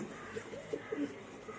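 Soft, low pigeon coos repeat a few times against a steady background hiss, faint and somewhat distant.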